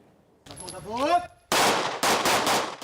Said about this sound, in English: Shooting classes are becoming ever more popular